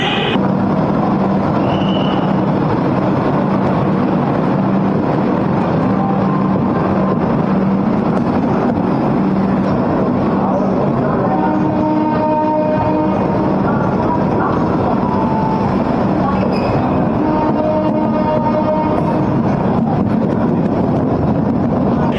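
A passenger train bound from Kolkata to Vizag rumbles along continuously, a loud, close, unbroken roar with wind buffeting the microphone and faint tonal hums drifting through the middle section.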